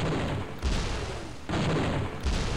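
Kata cannon fire in the video game Gunman Chronicles, three heavy booming blasts in quick succession, each a broad loud burst that decays into rumbling noise.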